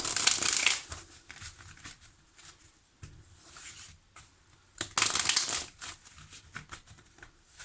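Tarot cards are shuffled close by, with two loud bursts of riffling cards at the start and near the end and softer handling and tapping in between, without talk.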